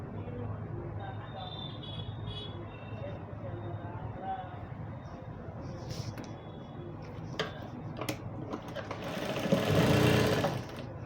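A sewing machine stitches palazzo pants in a tailoring class, a rapid ticking mechanical whir that surges louder near the end, heard close up while someone talks over it.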